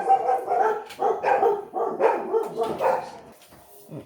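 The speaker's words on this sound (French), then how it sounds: "j'ai les chiens qui aboyaient" Several dogs barking indoors, loud and close, in repeated overlapping bursts of yapping and woofing that fade slightly toward the end.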